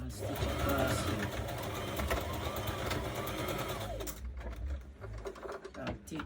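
A sewing machine runs steadily, back-stitching fabric for a red dress, a close, continuous mechanical whir that stops near the end, with someone talking over it.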